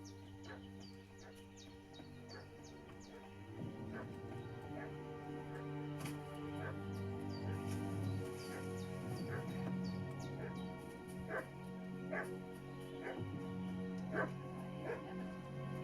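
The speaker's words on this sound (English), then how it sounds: "What's that dog making such a fuss about?" A dog in a video game yips, barks and whimpers repeatedly in short bursts over a droning game music bed, with a chirpy bird-like background and no talking.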